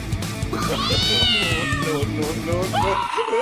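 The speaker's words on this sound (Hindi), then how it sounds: "इतना प्यारा बिल्ली का बच्चा।" A kitten in an animated comedy cartoon gives drawn-out, rising and falling meows, one long and loud near the middle, over background sounds with some voices.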